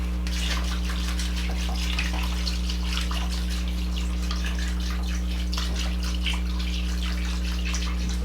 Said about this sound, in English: Now you put enough water in to cover all of the ingredients in the pot.